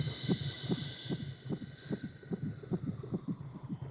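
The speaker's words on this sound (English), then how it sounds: "almost kind of heartbeat sound. And it has a sense of wind, it has a sense of liquid and almost a squishiness to it." A heartbeat-like pod sound effect for the 1978 Invasion of the Body Snatchers, built partly from heartbeat recordings taken on a pregnant belly: an even, throbbing double pulse with a liquid, squishy texture over a windy airy hiss.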